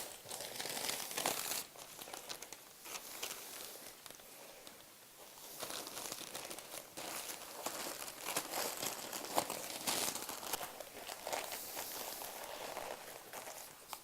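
White paper crinkling and rustling while a grandfather clock pendulum is secured and wrapped, a faint, irregular stream of crackly handling noises that continues throughout with small pauses.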